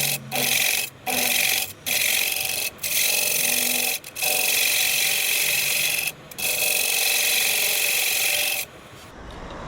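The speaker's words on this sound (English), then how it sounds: "My chuck has the dovetail jaws, so that's what I'm doing here, is just cutting in the dovetail." A woodturning tool cuts a dovetail recess into the bottom of a wooden bowl spinning on a lathe, giving a steady, close scraping rasp in long stretches broken by brief pauses.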